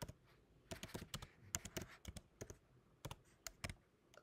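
Keys on a computer keyboard clatter quietly and close by while someone fills in a consular legalization form, with irregular bursts of sharp clicks and brief pauses between words.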